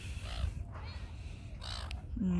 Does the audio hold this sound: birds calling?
yes